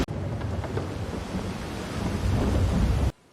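A thunderstorm at sea pours heavy rain in a dense, continuous roar with a deep rumbling low end that swells louder toward the end before cutting off abruptly.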